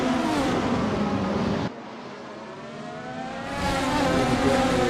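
Race cars lapping the Hungaroring in a racing game, drivers slipstreaming nose to tail: a loud, continuous engine roar that drops away briefly in the middle, then swells back to full volume.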